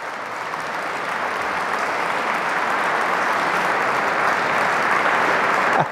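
A large crowd of about a thousand people applauds inside a cathedral during a closing Mass, a dense, sustained clapping that swells slightly and fills the reverberant space, with no talking.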